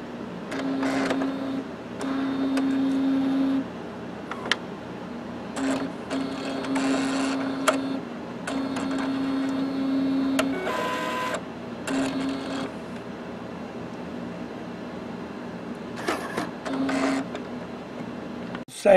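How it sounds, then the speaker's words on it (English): An Epson SureColor P400 printer runs after a continuous ink system install, with whirring carriage motors, clicks and stop-start mechanical passes, fairly close and alone. "Now let's see if the light goes out."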